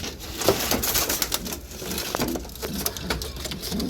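Pigeons cooing in a loft, with the soft calls mixed into a busy, rustling backdrop of wingbeats and shuffling, moderately loud and continuous.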